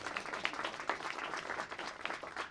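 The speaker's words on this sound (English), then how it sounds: "quick round of applause again." An audience applauding a guest speaker, with a steady patter of many hands clapping at moderate distance and no talking over it.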